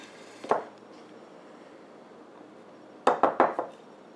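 A spoon clinks against a bowl while mixing green food coloring into royal icing: one sharp tap, a pause, then a quick cluster of four knocks, close and clear in a quiet room.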